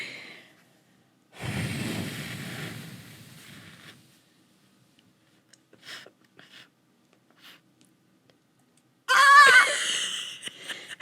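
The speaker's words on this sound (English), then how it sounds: "Can you blow all the breath out of your mouth and then try to scream?" A person screams after forcing all the air from their lungs: first a long, noisy exhale, then after a quiet stretch a short, loud, strained and raspy scream near the end.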